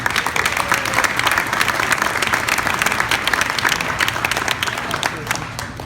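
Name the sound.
audience applause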